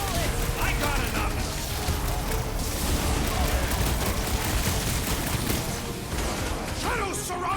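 Gunfire in the Guardians of the Galaxy video game crackles through a dense, continuous wash of combat noise, with mechanical clatter and booms layered beneath a voice speaking throughout.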